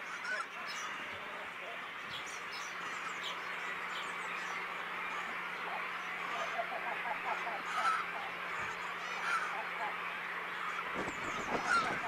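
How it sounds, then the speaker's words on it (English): A cormorant colony calling in the Volga Delta: a dense, constant chorus of many birds honking and croaking, heard from a moderate distance with steady background noise. "The cormorant colony is a noisy place in the delta"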